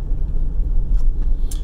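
A car on a road through Yellowstone's Hayden Valley is overtaken, heard from inside the passing vehicle as a loud, close engine and road rumble with a brief whooshing rise near the end.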